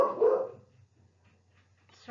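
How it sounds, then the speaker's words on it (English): Dogs bark briefly at a distance in a quiet room, a short muffled burst at the start that fades into near silence with a faint low hum. "there go the dogs again"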